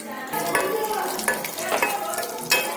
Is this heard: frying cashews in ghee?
yes